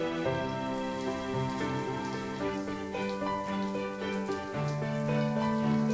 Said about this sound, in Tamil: இப்போ வெங்காயம் சேர்த்துடலாம்.